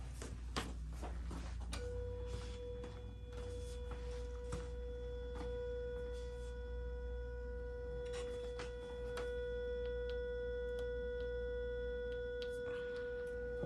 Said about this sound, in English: Okay, this is an unexpected hum.